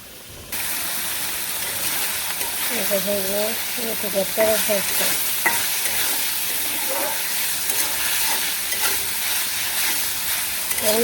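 Meat fries in a pan for a curry with vegetables, a steady loud sizzle and hiss with occasional scraping as it is stirred, while a person talks over it.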